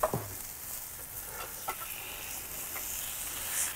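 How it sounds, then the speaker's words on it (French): Pineapple slices sizzle on a grill for a burger dish, giving a steady faint crackle and hiss throughout with a few small pops and no talking. "puis on va faire griller nos tranches d'ananas"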